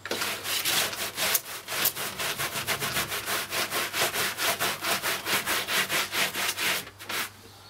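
A car floor mat scrubbed back and forth by hand in a steady rhythmic brushing, each stroke a loud close rasp, keeping an even regular pace for several seconds before it stops.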